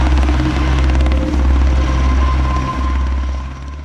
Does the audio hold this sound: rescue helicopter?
yes